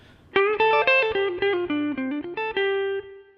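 An electric guitar plays the opening lick of a guitar solo, a run of clean, bright picked notes with slight effects, ringing out closely and clearly with no talking.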